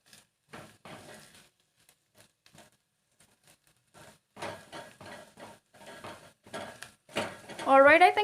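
Onions being stirred in a metal pan while cooking for a dry potato curry, with scattered scraping clinks of a spoon against the pan between pauses and a brief louder rattle at the end.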